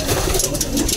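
A racing pigeon coos close by in a low, soft burble, mixed with rumbling engine-like background noise and brief voices.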